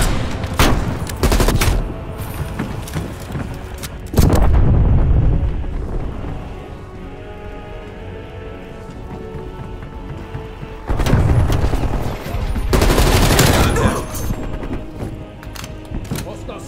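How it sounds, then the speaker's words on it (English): A sentry gun in Call of Duty Black Ops Cold War rattles out several loud bursts of rapid gunfire separated by quieter stretches, with players talking in between. "We gotta take that fucking sentry gun out."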